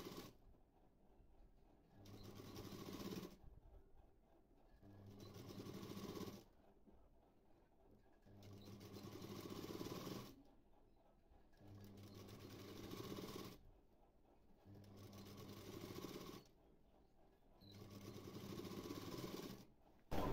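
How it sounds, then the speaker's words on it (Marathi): Domestic sewing machine stitching a dress in bursts of steady whirring, several runs of about two seconds separated by short pauses, close and clear with no talk. "मी इथे टीप टाकून दाखवत आहे"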